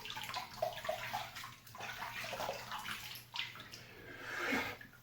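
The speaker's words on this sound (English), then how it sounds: "I'm going to drain the sink." Water draining from a bathroom sink after a shave, a close gurgling, sloshing rush that swells and fades irregularly, ending in a louder gurgle.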